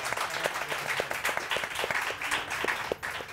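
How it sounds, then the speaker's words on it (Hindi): Applause in a TV morning-show studio for Dr. Tahir Shamsi: a steady wash of clapping hands with sharp individual claps poking through, moderately loud and sustained throughout. "इनके लिए वाकई डॉक्टर ताहिर शमसी के लिए तालियां होनी चाहिए"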